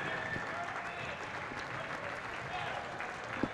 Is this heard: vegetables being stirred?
no